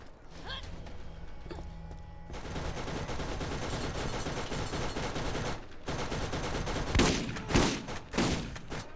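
Sustained rapid gunfire from a weapon in the shooter Borderlands, running steadily for several seconds before giving way to a few separate heavy blasts, with no one talking over it.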